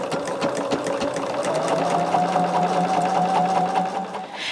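A sewing machine stitches a Poppie Cotton Country Blessings quilt block with a loud, steady, fast-running whir and rapid needle clatter. It is heard close and continuous, with no talking.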